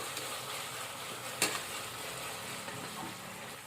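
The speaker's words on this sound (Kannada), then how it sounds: "ಫುಲ್ಲೆಲ್ಲ ಫ್ರೈ ಆಗ್ಬೇಕ್ರಿ ಚೆಂದಾಗಿ. ನೋಡಿರಿ ಎಷ್ಟು ಚಂದ ಉಳ್ಳಾಗಡ್ಡಿ ಮೆತ್ತಗಾಗ್ಯಾವ" Onions soften in hot oil in a home kitchen pan, giving a quiet, steady sizzle with a single sharp utensil click partway through and a few faint taps.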